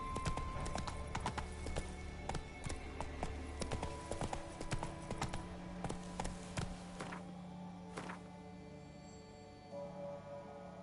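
Roach, a horse in the video game The Witcher 3, galloping with rapid, steady hoofbeats close by, slowing toward the end, with a faint neigh.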